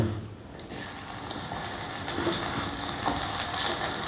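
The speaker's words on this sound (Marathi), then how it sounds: "थोडंसं तेल टाकून घेऊ अजून आणि त्याच्यात आपण कांदा तळून घेऊ" Onion frying in oil in a pan, a steady close sizzle with faint watery crackle throughout, no voices.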